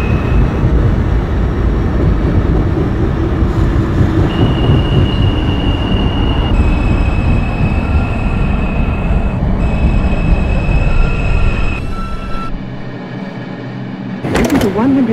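A simulated New York City subway 2 express train runs along the track in the OpenBVE train simulator game, with steady wheel and motor rumble, tonal whines, and brief squeals toward the end.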